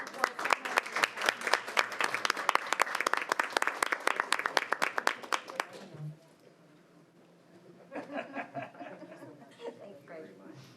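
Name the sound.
applause at a board of education meeting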